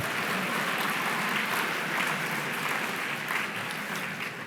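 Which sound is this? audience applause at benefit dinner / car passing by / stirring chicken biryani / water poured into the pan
audience applause at benefit dinner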